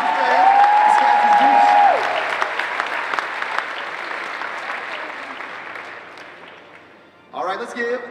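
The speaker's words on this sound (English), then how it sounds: "A round of applause." Audience at a 2017 comic convention cosplay competition claps in a broad burst of applause, with a tonal hum or voice over the opening seconds, the clapping gradually thinning, then a brief sound near the end.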